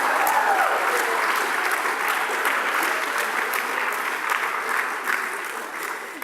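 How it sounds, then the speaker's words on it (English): An audience claps in a hall during a college reunion talk, sustained dense applause close by that tapers off toward the end, with a voice faintly under it. "they don't clap as much as you guys do"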